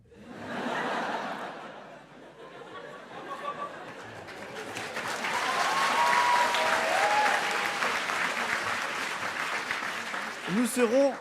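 Audience applause at the HEC Paris 2019 eloquence contest final, building into sustained clapping with scattered laughter and chatter mixed in, fairly distant in the hall.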